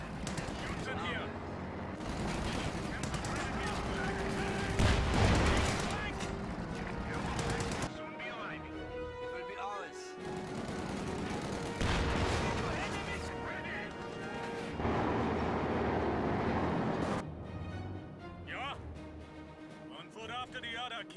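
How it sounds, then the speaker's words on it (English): Explosions and gunfire from bombs and artillery in the Company of Heroes 2 strategy game, heavy crashing blasts and bursts spread across the stretch, with in-game voice callouts over the battle din. "Bombs incoming!"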